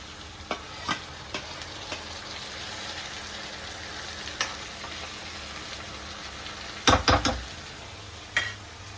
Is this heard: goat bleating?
no